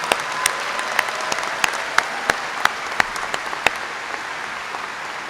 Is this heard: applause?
yes